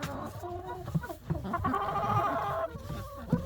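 Laying hens clucking and murmuring inside a coop on a freezing night, a few close bird calls rising and falling over low background noise, with no speech.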